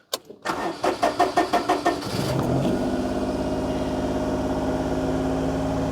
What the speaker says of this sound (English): If we actually start the car up, key in, make sure we're in neutral,